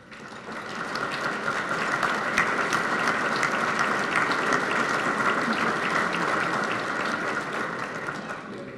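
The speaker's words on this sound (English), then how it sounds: "we'll give them a round of applause" Diners at a Crime Lines awards dinner honoring law enforcement coordinators break into applause: a full, even roar of many hands clapping that builds quickly and holds steady before tapering slightly.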